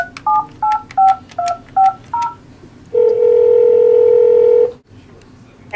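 Telephone keypad tones from a pool phone used to clock in: seven short beeps in quick rhythm, then one long steady tone, loud and clear with nothing else over them.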